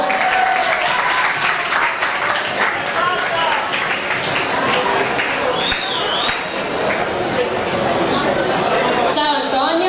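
An audience at a university sports interview event applauds in a steady, loud patter of clapping mixed with crowd murmur and some talk, fading near the end as voices take over.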